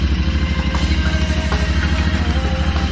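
A Royal Enfield Interceptor 650 motorcycle engine idling up close, a steady loud throbbing pulse with faint mechanical clatter and no speech.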